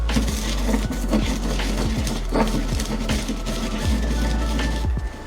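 Spoon clinking and scraping against a bowl while mixing chili powder and spices into togarashi, a steady run of close, bright metallic taps and scrapes.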